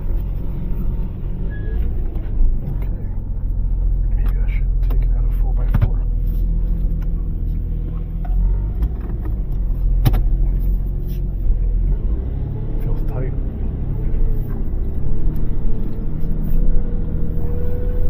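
A Nissan 4x4 stuck and unable to move, its engine droning and revving in a low steady rumble with occasional surges, heard from inside the vehicle.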